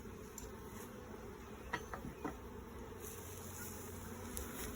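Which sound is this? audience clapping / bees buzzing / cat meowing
bees buzzing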